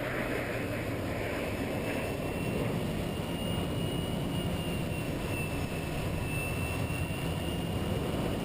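A pair of de Havilland Vampire jets flying a formation aerobatic display at RIAT 2018, heard as a steady, loud jet roar with a high whine, recorded from inside a cockpit.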